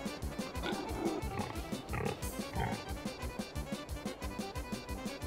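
Pigs on a farm in a farming game oink and grunt in a steady, repeated rhythm, several animals close by and fairly loud, with no other sound on top.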